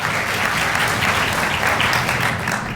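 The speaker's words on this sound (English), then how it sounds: "let's give a round of applause" At a national science fair awards ceremony, the audience gives a round of applause, a dense continuous clapping that holds steady throughout.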